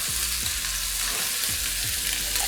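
Rack of lamb searing in a hot pan, a steady frying sizzle with a few stirring or shifting sounds, close and continuous with no talk.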